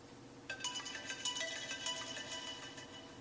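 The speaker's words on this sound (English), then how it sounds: "We're going to play a ringtone here." An iPhone 7 ringtone plays at maximum volume while the phone sits submerged in Coca-Cola, a faint, muffled melodic tone repeating in short notes.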